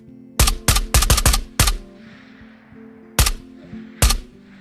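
Gunfire in Tabor, a Tarkov-like shooter video game: a rapid burst of five or six loud, close shots, a brief pause, then two more single shots spaced apart, each sharp crack trailing a short echo.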